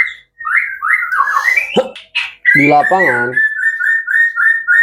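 Long-tailed white-rumped shama (murai batu) singing in a cage: loud clear whistled phrases and rapid trills, then a run of repeated even chirps, with brief speech in between.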